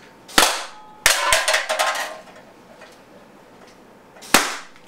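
Tippmann TIPX 0.68 caliber paintball pistol firing, sharp pops and rebounding ball impacts: a single crack, then a quick cluster of shots and rattles, a quiet stretch, and one more loud shot near the end.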